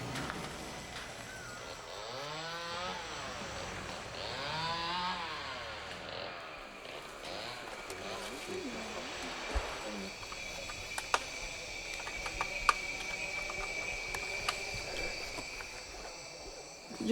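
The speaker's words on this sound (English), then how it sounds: "You can hear chainsaws." Far-off chainsaws of illegal loggers in the Amazon rainforest whine and rise in repeated revving surges, then fade into a thin insect drone with occasional sharp clicks.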